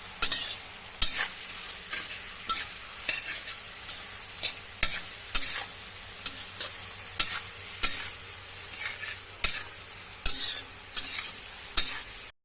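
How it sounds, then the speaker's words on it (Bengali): Fried rice with a little salt is stirred and fried in a pan. A spatula scrapes and clacks against the metal in sharp, regular strokes about once a second, over a continuous close sizzle. "এর মধ্যে দিয়ে দিচ্ছি অল্প লবণ, নাড়াচাড়া করে ভেজে নেব"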